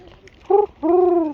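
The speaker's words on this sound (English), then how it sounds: "Yep, those are clearly pigeons, yeah." Pigeons cooing at the Temple Mount, a short coo followed by a longer drawn-out one, close and clear with no talk.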